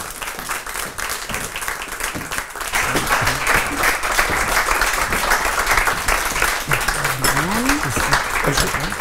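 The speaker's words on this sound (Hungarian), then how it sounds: "Még egy pici tapsot kérek szépen" Audience applause at a live talk show with guest actors swells after a few seconds into a loud, continuous round of clapping, with voices speaking over it.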